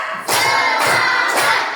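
Children in a classroom clap along in the counted Indonesian "tepuk" rhythm, three loud bursts of clapping close by, with no talk over them.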